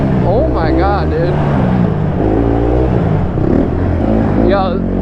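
A 2022 small-wheel 150 three-wheeler engine runs steadily up close, its low rumble holding beneath loud, excited talking throughout.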